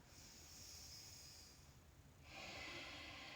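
Slow, breathy yoga breathing with the air pressed through the throat, a soft hissing exhale that shifts to a brighter, stronger breath partway through, close and quiet with no talk.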